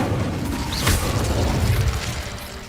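A single fiery spell blast from Incendio in Hogwarts Legacy on PS5, a brief whooshing burst near the start over a steady rumbling game-world bed, with no talk.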